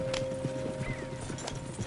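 Horse hooves clip-clop at a quick pace in Red Dead Redemption 2, with a faint whinny partway through, quiet and somewhat distant under a low steady background hum.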